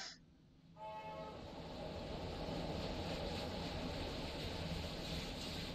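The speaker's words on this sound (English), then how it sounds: "Why is this train so loud?" A loud train passing, a sudden rise from near quiet into a sustained roaring rumble with a strong whining tone that holds steady and loud to the end, with no talking.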